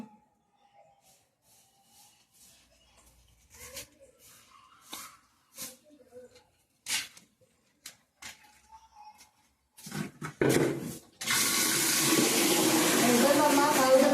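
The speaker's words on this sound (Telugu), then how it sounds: "నేను నీళ్ళు పోతున్నాను మొక్కలకి" Scattered speech and small clicks, then water suddenly gushes in a steady, close stream onto plants for the last few seconds.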